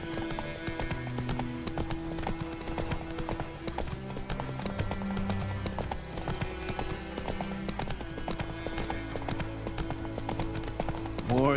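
Roach, a horse in The Witcher 3, gallops with rapid rhythmic hoofbeats that run throughout, mixed with game music and ambient sound.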